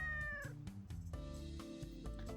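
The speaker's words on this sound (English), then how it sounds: "Are you a cat? You look like a cat." In Rio de Janeiro, a cat meows several times in a row, loud and close. The calls are drawn out and rise and fall in pitch, with a few short breaks between them.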